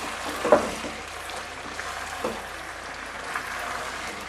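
Beef frying with garlic ginger paste in a pan for nihari: a soft, steady sizzle with a few light clinks and stirring scrapes, fairly quiet and close.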